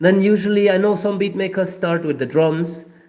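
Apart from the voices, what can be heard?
None of the usual background noises is heard.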